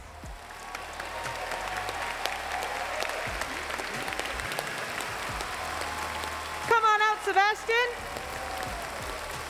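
At the Pokémon Worlds 2022 Trading Card Game seniors grand finals, an audience claps steadily as a player is called onto the stage. An announcer speaks over the applause near the end.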